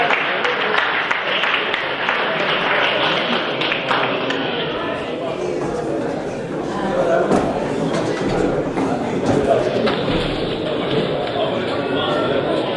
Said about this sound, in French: Voilà, pour les applaudir.